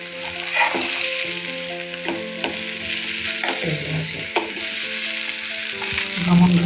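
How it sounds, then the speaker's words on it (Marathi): Surmai (kingfish) pieces fry in a pan over medium heat, giving a loud, continuous close sizzle broken by clinking stirs and scrapes as the fish is turned. "आपण आता दोन्ही बाजूने चांगले फ्राय करून घ्यायचे आता आपण दुसऱ्या बाजूने पलटी करू त्यांना"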